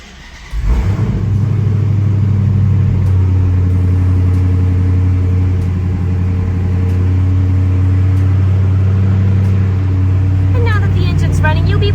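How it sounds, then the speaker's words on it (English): A 2015 Dodge Challenger R/T Scat Pack with a manual transmission and push-button start fires up with a loud burst, then settles into a steady, deep idle that stays close and continuous. "I'll now just get inside this vehicle and turn it on for you."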